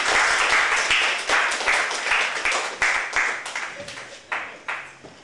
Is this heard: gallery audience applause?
yes